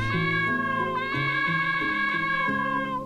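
Cat meowing in the video game Kioku Shoujo Aenakute: a long, steady, tonal meow that continues throughout over a looping low musical pattern of stepped tones, all loud and constant.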